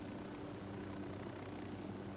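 Helicopter in the video game Ghost Recon Wildlands: a faint, steady low rotor and engine drone with a constant hum, unbroken throughout.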